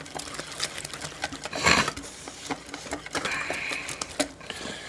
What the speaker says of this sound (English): Cordless drill beater. We're going to mix it up, and this should be really runny